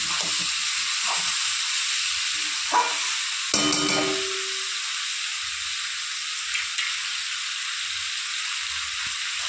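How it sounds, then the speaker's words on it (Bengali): Winter vegetables sizzle and hiss steadily in a hot pan, with a few scraping stirs and clanks of a utensil breaking through. "ভালো করে নেড়ে চেড়ে সবজিগুলো একটু কষিয়ে নেব।"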